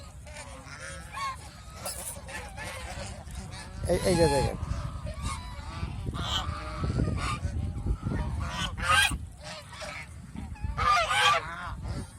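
Domestic geese on a small goose farm honk loudly and repeatedly in overlapping bursts, close to the listener, with someone talking briefly between calls.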